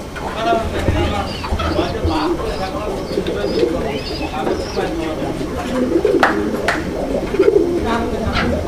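A pair of Rajgolla pigeons coos repeatedly in soft, rolling calls close by, with talking over and between the calls throughout.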